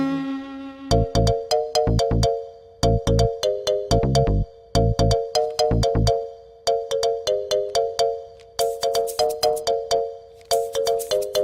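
A mobile phone ringtone plays loud and close, a repeating melodic pattern of bright, bell-like tones in a rhythmic sequence that runs throughout.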